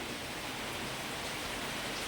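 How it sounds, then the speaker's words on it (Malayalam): Steady rain falling, a dense even hiss with no pauses or voices. "പക്ഷെ നിന്നിട്ടില്ല മഴ"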